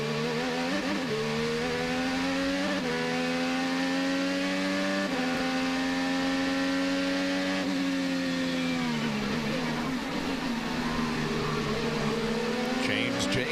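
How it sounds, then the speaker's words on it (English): IndyCar race car at the Long Beach Grand Prix heard from onboard, its engine droning at a steady high pitch before the revs drop sharply as the driver lifts off the throttle, then pick up again, loud and continuous throughout. "You can hear him lift off early."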